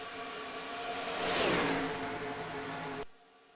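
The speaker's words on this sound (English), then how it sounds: "Hearing an idling engine up ahead" A video game race car engine at Talladega roars and whines, swelling past loudly before cutting off abruptly to a quieter hum.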